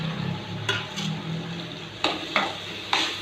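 Onions frying in a pan give a steady background sizzle, broken by several short scraping clanks as a spoon stirs them against the metal.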